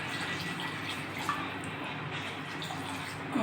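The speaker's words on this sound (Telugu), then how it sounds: "ఇంకొన్ని వాటర్ వేసుకుందాం" Water is poured into a pan of chicken masala curry, a faint, steady, soft splashing hiss with no talk over it.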